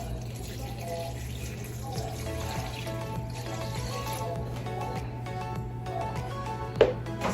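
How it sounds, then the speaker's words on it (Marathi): Water runs from a kitchen tap into a bowl of fenugreek leaves being washed, a soft continuous splashing stream over low household hum, with a small clink near the end. "आता मी याच्यात पाणी टाकते"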